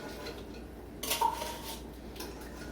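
Sweet condensed milk being stirred into chocolate tres leches batter in a mixing bowl, with a utensil clinking and scraping against the bowl in a brief burst of close, moderately loud strokes over quiet background.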